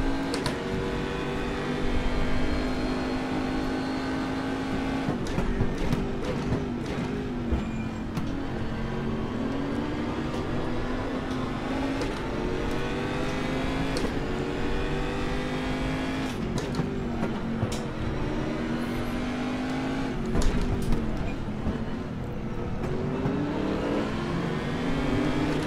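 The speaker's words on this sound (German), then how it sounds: "Der Sound vom R8 gefällt mir nicht so gut." Audi R8 race car engine in the ADAC GT Masters racing game at Zandvoort, a steady loud droning roar with shifting pitch as it revs and settles, continuous throughout with occasional brief bumps.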